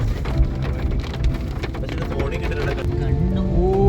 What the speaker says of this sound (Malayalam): ഇടയ്ക്കിടയ്ക്ക് ചെറുതായിട്ട് നല്ല മഴയും പെയ്യുണ്ടായിരുന്നു.